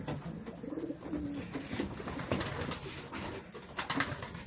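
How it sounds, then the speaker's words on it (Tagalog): Pigeons coo softly amid a noisy outdoor bustle, their low repeated calls partly buried under rustling and background chatter. "dumating na nga yung tatlong ibon namin ni Palawan Lop"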